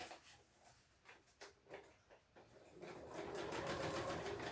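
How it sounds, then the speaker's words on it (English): A sewing machine stitches down a pocket, starting after a few quiet clicks and handling sounds, then whirring steadily and close for the last second and a half. "I will just do a stitch down my pocket to create the pocket."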